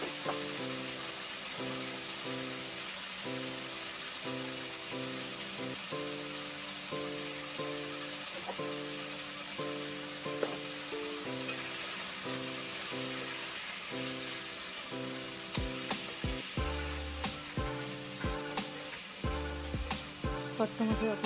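Vegetables sauté in hot oil with salt and turmeric, giving a steady close sizzle and frying crackle. A spoon stirs and scrapes the pan in a regular rhythm, and the stirring grows louder and choppier near the end.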